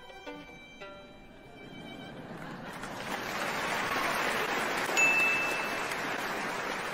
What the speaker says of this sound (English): Why are you clapping in the middle of the piece?